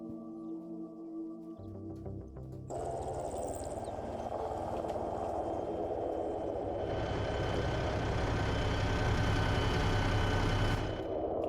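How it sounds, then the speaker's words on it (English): Heavy engine rumble of a BTR-80 armored vehicle in a multiplayer military video game, a steady low droning roar that swells after a few seconds and holds loud and continuous, with a higher whine above it. "hearing the sounds of the UH-60 is going to be tough over the engine noises of the BTR-80 itself"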